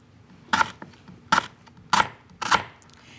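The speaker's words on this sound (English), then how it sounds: "use a good sharp knife to cut it into slices" Sharp knife slicing through tough lemongrass stalk on a cutting board: four crisp, separate chops spaced roughly half a second to a second apart, close and clear with no talking.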